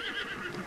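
A horse in Zelda Breath of the Wild lets out a brief, high, wavering whinny, clear and fairly close over a faint background.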